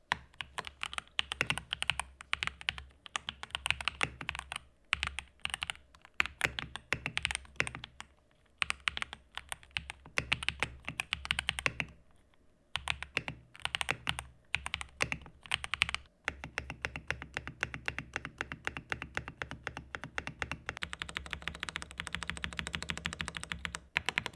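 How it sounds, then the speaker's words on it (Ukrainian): Rapid, steady typing on a mechanical keyboard with lubricated tactile switches, dense clicky keystrokes close up, brief pauses, then a faster even run toward the end. "перемикачі плавні, бо змащені та не мають ніяких додаткових призвуків"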